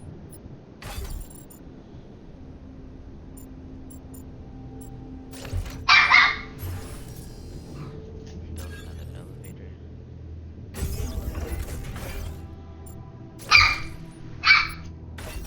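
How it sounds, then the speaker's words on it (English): Dog barking during gameplay of The Alters, a few sharp barks near 6 s and two more toward the end, fairly loud, while someone talks over steady game sound. "And of course my dog's barking."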